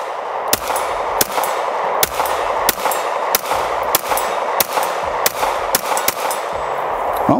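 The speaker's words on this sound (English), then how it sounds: "Feels like how I would expect a Glock to shoot, right?" A Glock pistol fitted with a stabilizing brace fires about ten evenly spaced shots, each a sharp loud crack with a metallic ring at a fairly steady pace, outdoors with no talking.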